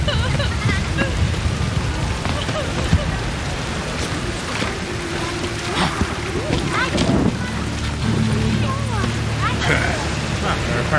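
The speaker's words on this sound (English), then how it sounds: "A storm, damn it." A heavy rainstorm in the video game The Witcher III: a steady, dense hiss of pouring rain fills the whole stretch, with scattered tonal game sounds rising above it and no clear speech.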